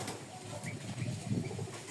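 Soft, low pigeon coos from many pigeons at a pigeon seller's repeat through the background, mixed with faint rustling and an occasional light chirp, with no talking.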